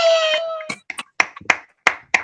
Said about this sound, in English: give a round of applause, hoot and holler, or whatever